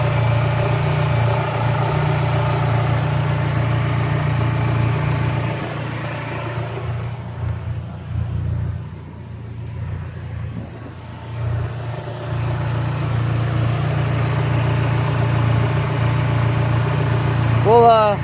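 A Dodge SRT-4 car engine idles while warming up, a steady low rumble with a brief dip in loudness midway and a slight rise near the end, close by, with no talk over it.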